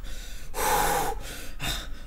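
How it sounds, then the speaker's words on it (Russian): A character in Naruto Shippuden: Ultimate Ninja Storm 4, Road to Boruto, breathes heavily, giving two ragged gasping breaths about a second apart, close and alone. "Типа, Барут тяжело дышит."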